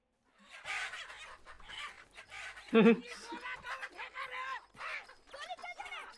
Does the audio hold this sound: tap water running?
no